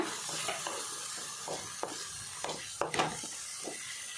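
Tomatoes and green chillies fry in a pan for masala egg bhurji, a steady close sizzle with a spoon scraping and stirring in short, irregular strokes.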